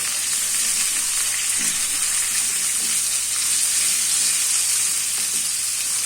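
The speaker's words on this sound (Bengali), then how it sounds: "আলু পেঁয়াজ একসাথে ভেজে নেব।" Potatoes and onions fry together in a pan, giving a loud, steady, close sizzle that hisses without a break and with no talking.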